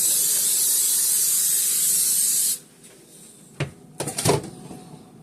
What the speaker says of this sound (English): I'll take my cooking spray, and I'll spray my pan real good so it doesn't stick